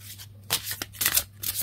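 Angel oracle cards being shuffled by hand, a few quick riffling bursts and soft slaps of the deck, close and clear.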